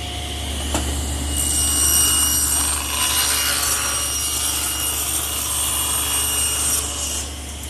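Table saw blade raised about 3/8 inch cuts a tongue in wood for a blanket chest, a steady loud rasping whine running through the whole stretch with no talk.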